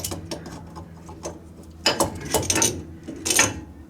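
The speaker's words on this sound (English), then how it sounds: "Now, these are dry. They're gonna sound a little scary" Dry ring and pinion gears in a 1978-79 Dana 44 axle are spun by hand, giving a close series of clicking, ratcheting bursts that grow louder and more rapid toward the end.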